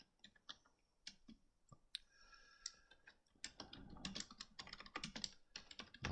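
Keys clatter on a computer keyboard in irregular, quiet bursts that grow faster and denser toward the end.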